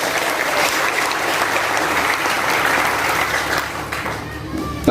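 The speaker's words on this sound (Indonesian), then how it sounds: "Ibu-ibu, tepuk tangan untuk mereka." Loud, sustained applause from a crowd of women at an event, a dense wash of clapping that holds steady and begins to ease off toward the end.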